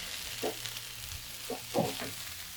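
Tantanmen meat mixture is stirred in a hot pan, giving a soft, quiet frying hiss broken by a few brief scraping strokes of the spoon, with no talk.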